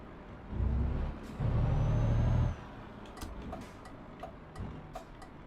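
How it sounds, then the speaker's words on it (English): In Euro Truck Simulator 2, the truck's turn indicator ticks in a steady, faint, evenly spaced series of clicks. It follows two louder bursts of engine and air noise. "Not sure about the indicator noise."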